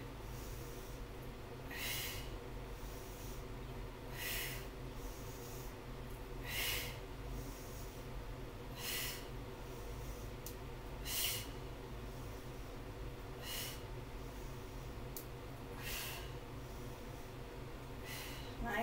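Heavy, rhythmic exercise breathing during an alternating cardio and strength workout, sharp hissing breaths repeating roughly every two seconds over a steady low background hum.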